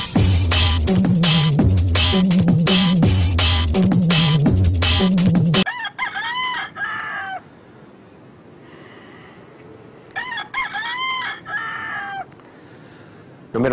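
A rooster crows several times in a city in the Philippines, loud harmonic calls that ring out in repeated bursts, followed by fainter, more distant crows over low background noise.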